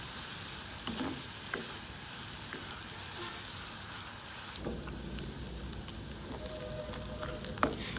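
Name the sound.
anchovies deep-frying in hot oil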